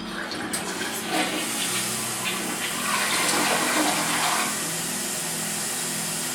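A newly installed toilet flushes with a close rushing swirl of water that swells and then settles into a steady refill hiss, with faint voices in the background.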